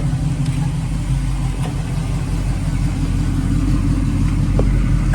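A Pontiac Firebird Trans Am's 350 engine runs on a test after a radiator installation, a loud, steady, throaty idle heard up close and continuous throughout, with no talking.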